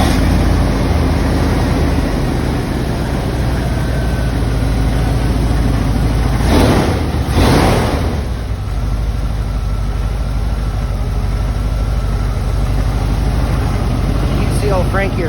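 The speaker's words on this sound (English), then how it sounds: "You can hear a little rumble in the exhaust, but it runs very good." A 1990 Ford Centurion C350 truck's 7.5L V8 engine idles with a steady, low rumbling exhaust drone, continuous and close, with a brief louder swell partway through.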